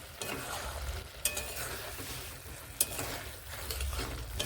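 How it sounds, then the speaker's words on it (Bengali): A spoon stirs beans and potato curry in a pan over low flame, soft scraping with a couple of sharp clinks against the pan and a faint simmer beneath. "এইভাবে নেড়ে নিচ্ছি"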